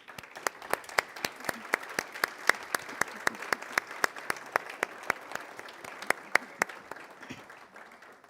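Audience applause at a commencement ceremony honoring 2020 graduates: sustained clapping from a moderate crowd, with sharp individual claps standing out in a fairly regular rhythm before it tapers off at the end.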